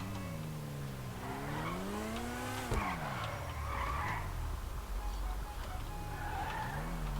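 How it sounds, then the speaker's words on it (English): Hard braking in GTA 5 makes the Vysser Neo sports car's tires squeal, a long wavering screech over a steady engine drone that swells and dips for several seconds, with one sharp knock partway through. "I just floor it and then brake."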